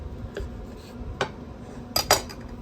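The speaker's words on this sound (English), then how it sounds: "Just cut the meat off the bone." A knife slices smoked ribeye meat off the bone on a board, giving a few sparse clinking scrapes and taps of metal, faint and close with quiet gaps between.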